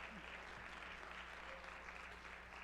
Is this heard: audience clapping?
yes